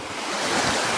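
Steady roar of ocean surf and gusting wind on a beach, loud and continuous with rumbling wind noise on the microphone, no voices.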